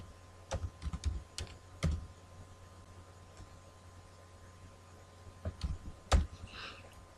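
Fingers tap at a computer keyboard while data is entered into an Excel spreadsheet, giving a few short, faint bursts of clicking keys separated by quiet gaps.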